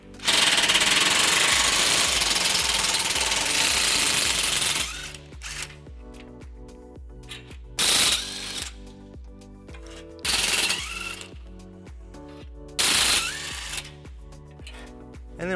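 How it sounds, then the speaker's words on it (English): Power tool whirring loudly and steadily for about five seconds, then short bursts of ratcheting and spinning, as a 14mm socket backs out bumper horn bracket bolts on a 2014 Fiat 500 Pop/Lounge during a baseplate installation. "we're going to remove them using a"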